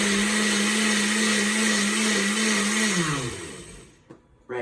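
A blender whirs loudly and steadily as it purées a hot sauce for Italian cooking, then the motor winds down, its pitch dropping, before stopping with a few clunks from the jar or lid.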